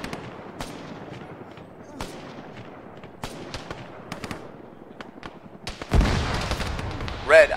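Scattered distant gunshots and explosions in the military shooter Arma crack across an open battlefield, then a heavy SPG launcher blast booms close and loud near the end, with voices talking over the firing.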